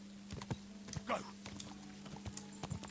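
Horse hooves clopping at an uneven pace in the video game Kingdom Come: Deliverance II, faint and spaced, over a steady low hum with a few other small clicks.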